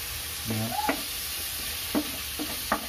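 Mushrooms sizzle in a pan while a steak gravy is prepared, a steady quiet fry with a few brief clinks and stirring scrapes scattered through, no voices.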